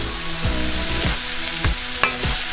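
Tex Mex eggroll filling sizzles in a hot pan on lowered heat, a steady frying hiss broken by a few soft scraping stirs, close and without talk.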